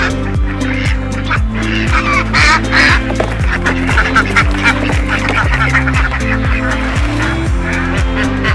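Farm ducks quack and honk in a loud, busy flock, overlapping calls repeating steadily throughout with no talking.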